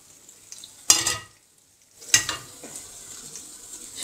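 Sucuk, a Turkish sausage, is stirred into a pan of menemen: two short scraping stirs with faint sizzling between them, quiet and close, with no talk.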